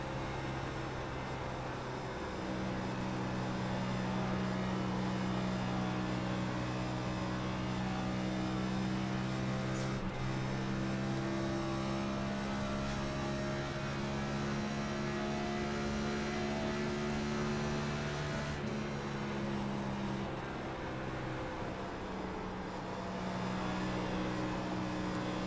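A NASCAR Cup stock car engine races at Auto Club in iRacing, a steady, loud, droning roar whose pitch slowly rises and falls, with no talking over it.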